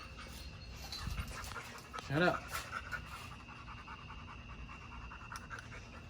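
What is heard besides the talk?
dog panting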